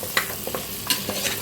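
Ginger garlic paste and paya are sautéed in a pan, with a soft sizzle and quick scraping stirs of a spoon sounding several times in short bursts, close up and without talking.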